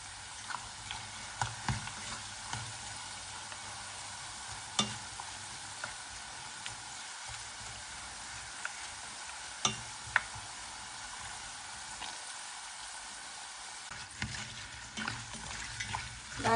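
Steady crackling sizzle of sweet potato chips deep frying in hot oil, with scattered louder pops and bubbling throughout, continuous and close.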